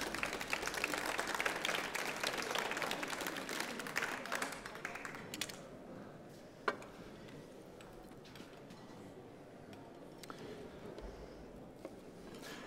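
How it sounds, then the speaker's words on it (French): An audience claps for a chef's kitchen brigade at a cooking demonstration, loud and dense at first, then fading after about five seconds to sparse scattered claps and quiet room noise. "je vous demanderai d'applaudir également"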